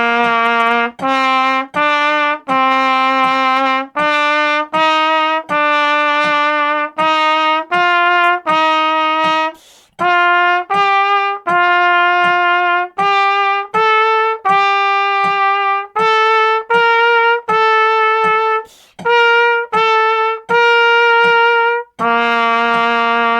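A trumpet plays scale study number 23 from low C, a steady run of separate notes rising and falling in half and quarter notes with short breaths between phrases, loud and close with no talking.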